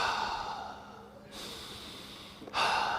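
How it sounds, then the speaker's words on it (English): A person breathes deeply while holding a lower thoracic mobilisation exercise, with two long, close, airy exhalations following a softer stretch of breath. "finish a couple more breaths here"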